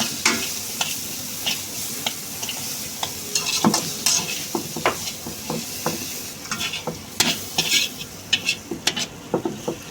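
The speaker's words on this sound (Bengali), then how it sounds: "হালকা নাড়িয়ে নিলাম," Hot garlic chow mein being stir-fried in a pan: a steady sizzle runs throughout, broken by frequent sharp scrapes and clinks of a utensil stirring against the metal, close and fairly loud, with no talking.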